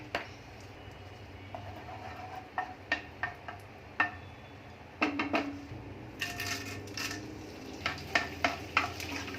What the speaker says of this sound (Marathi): आता आपण थोडा थोडा करून डिंक तळून घेऊया